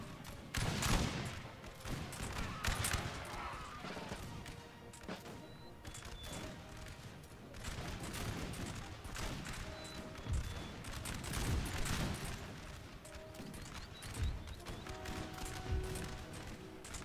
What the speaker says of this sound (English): Just by the superior number of men that will lay down fire upon them.